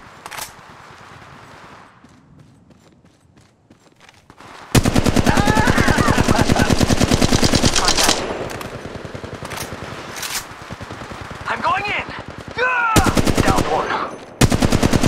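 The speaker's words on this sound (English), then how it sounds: "Contact. Opening fire." Loud, rapid automatic gunfire from the mobile battle royale game Apex Legends Mobile, sustained bursts broken by short pauses and a quieter lead-in, with brief game voice lines in between.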